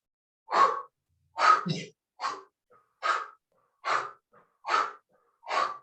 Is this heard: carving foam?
no